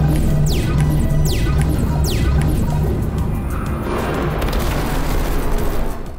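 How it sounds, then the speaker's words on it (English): Bombs detonating in the Ikenfell video game: a few heavy booming crashes with falling whistling tones in the first seconds, then a sustained loud rumbling wash of blasts. "Even Sadio's bombs don't really do enough."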